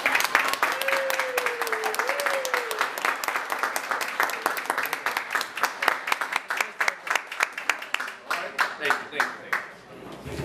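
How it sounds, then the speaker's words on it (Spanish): Guests at a birthday party give sustained applause with many hands clapping together. An excited voice rises over the clapping early on, and the applause thins into scattered individual claps toward the end. "Un aplauso duro para ella"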